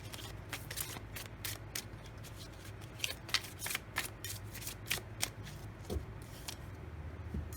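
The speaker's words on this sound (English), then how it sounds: "I'm going to draw on that card." Tarot and oracle cards are shuffled and drawn by hand in a series of quick, crisp riffling flicks and snaps, close and fairly quiet, with no talking.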